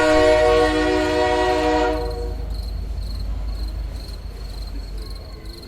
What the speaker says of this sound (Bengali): নতুন ইঞ্জিন জুড়ে ট্রেন যখন বুড়াপ স্টেশনে এলো